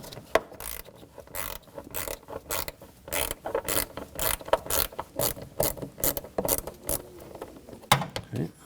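A 5.5 mm socket on a ratchet loosening a hose clamp on an air intake hose of a 2012–2015 Honda Civic, giving a steady run of crisp, close ratcheting clicks in short repeated bursts.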